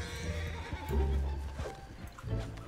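A horse in the video game Red Dead Online whinnies loudly over a busy in-game soundscape, with hoof clip-clops and low rumbling underneath.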